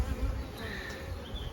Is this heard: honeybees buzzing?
yes